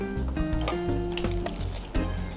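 Tofu sizzles and fries steadily in a hot pan, a dense crackling hiss that stays loud and close throughout with no talking.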